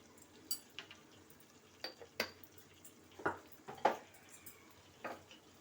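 Crab curry masala is sautéed in a pan. A spatula scrapes and clinks against the metal in scattered, fairly quiet taps over a faint background hiss.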